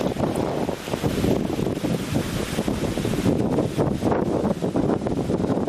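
Strong wind on the Gumitir mountain road between Jember and Banyuwangi buffets the microphone in loud, continuous roaring gusts, with no voices.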